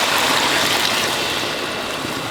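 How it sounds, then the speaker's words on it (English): Beef broth poured into a pot over carrots and onion for a braised beef shank, a loud, continuous splashing pour that stays close and steady before easing slightly toward the end. "we're going to pour this broth over into here."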